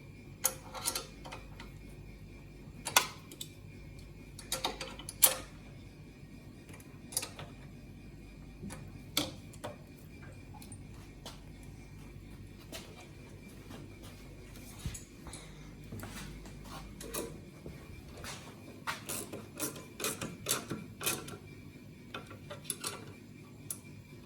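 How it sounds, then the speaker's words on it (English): A 13mm wrench works on the light bracket bolts of BMW R1250GSA crash bars. Quiet ratcheting ticks and metallic clicks come in irregular bursts, with short pauses between sets of turns. "13mm wrench. You can tighten the light bracket bolts"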